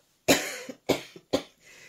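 Three harsh coughs in quick succession from a person with a failing voice, close and loud against otherwise quiet surroundings, with no talk.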